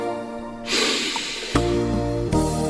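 Two sharp, close sniffs through the nose follow a longer breathy inhale, each sniff short and distinct against a quiet background.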